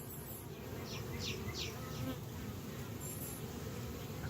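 Honey bees buzzing and fanning at a hive entrance in April, a soft steady hum with a few brief louder passes of individual bees close by, quiet overall and without talk.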